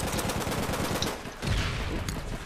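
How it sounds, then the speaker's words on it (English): Rapid automatic gunfire in the online shooter APB, a dense, close rattle of shots running throughout with no talk over it. "they're shooting from over here"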